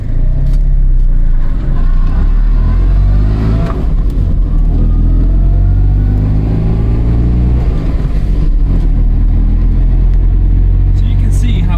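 Air-cooled two-cylinder engine of a Fiat 126 (Polski Fiat 126p) accelerating hard, a loud steady drone whose pitch climbs through the gears, recorded from inside the small car with someone talking over it.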